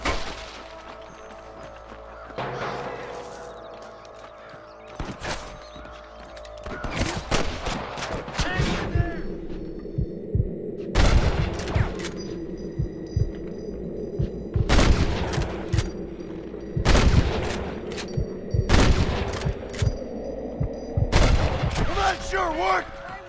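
Repeated bursts of gunfire from a Red Dead Redemption shootout, loud sharp volleys and single shots cracking at irregular intervals over a steady background hum, with voices talking in between.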